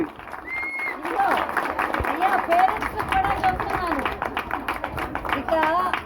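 An audience at a Telugu school certificate ceremony in Edmonton claps for children, a loose crowd of handclaps under overlapping talk and chatter.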